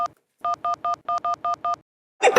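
A telephone keypad dials out a quick run of eight evenly spaced, clear touch-tone beeps after a short lead-in tone, close and loud, ending with a brief burst of noise.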